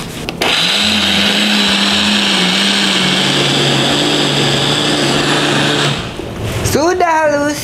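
An electric blender grinding dry-roasted spices with a little oil and water into a smooth paste, a loud steady whir that runs for about six seconds, then stops, followed by a brief voice.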